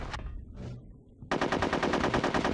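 Turret fire in the game Conker's Bad Fur Day: a short burst of gunfire, a brief quieter gap, then a rapid, loud, steady machine-gun stream.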